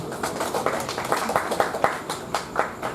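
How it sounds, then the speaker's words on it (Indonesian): An audience at a youth discussion forum claps in a moderate, rhythmic patter of hand claps, with a voice faintly present beneath. "Tepuk tangan semuanya untuk kita semua."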